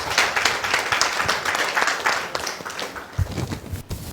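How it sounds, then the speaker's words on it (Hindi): A church congregation claps in thanks, a dense, steady round of applause lasting several seconds, fairly close and moderately loud, thinning slightly toward the end. "तालियां बजा के प्रभु को धन्यवाद।"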